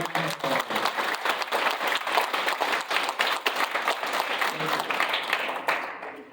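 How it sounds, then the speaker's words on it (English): Steady audience applause at a naturalization ceremony, dense overlapping claps holding at an even level before fading out near the end. "Please give her a big round of applause."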